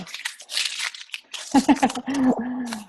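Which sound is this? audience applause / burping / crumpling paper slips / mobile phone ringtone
crumpling paper slips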